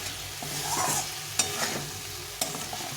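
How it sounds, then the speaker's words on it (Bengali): Eggplant pieces coated in spices are stirred in a sizzling pan for a katla fish and tomato curry. A steady frying hiss runs under two sharp spatula knocks, close up with no voices. "তো সবটা বেগুন দিয়ে দিলাম, এটাকে একটু নাড়াচাড়া করে নিতে হবে"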